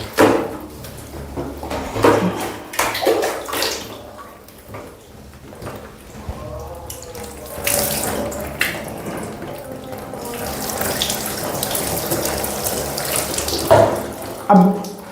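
Water pours and splashes steadily over a person's body during a ritual bath, a continuous running and spattering wash with occasional knocks and bumps, no talking.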